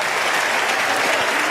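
An audience at the Cannes Film Festival opening ceremony applauds Peter Jackson as he receives an honorary Palme d'Or, a dense, steady wash of clapping from a large crowd that continues throughout.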